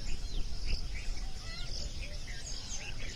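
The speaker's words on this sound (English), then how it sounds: "Chirping noise of birds" Birds chirp outdoors at a nature-cure and yoga ashram in Sivasailam, with repeated short tweets over a steady insect buzz and background noise, moderately distant.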